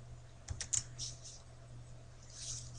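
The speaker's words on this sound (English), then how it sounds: "type an equal sign, then the letters NPV for net present value" A computer keyboard being typed on while entering an NPV formula in an Excel spreadsheet: a short quick burst of light keystrokes, then a few scattered taps, close by and soft over a steady electrical hum.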